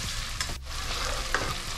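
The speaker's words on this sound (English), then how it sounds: "So we'll just cook the onion until it gets caramelized before we put the tomato." Chopped onion sizzles and crackles steadily in a hot pan for an Indian curry, with brief stirring scrapes and no talking.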